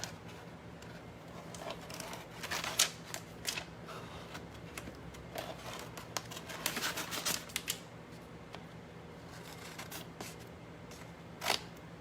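Scissors snip through a paper flower transfer at a craft table, giving a run of small crisp cuts and rustles of paper, close and fairly quiet, with a few sharper clicks standing out among them.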